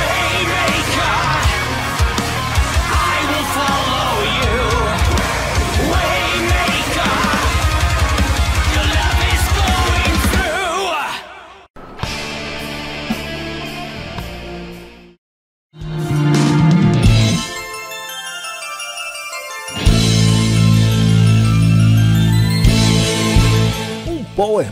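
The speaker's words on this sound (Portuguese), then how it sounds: "Power Metal progressivo e épico." Progressive, epic power metal plays loud and dense, with driving guitars and drums. It breaks off briefly twice, around eleven and fifteen seconds, then returns at full intensity.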